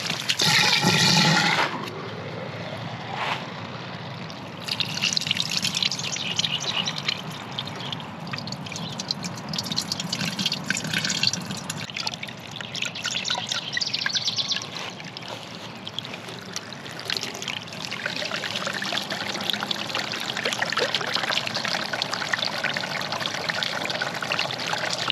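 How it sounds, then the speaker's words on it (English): Water rushing and pouring continuously from a hose run down into a metal frame pool's sand filter during backwashing, a loud, close, churning flow that carries on throughout with no talk. "I like to backwash this basically, and I just run the hose down in through here, let the water come back up through the top"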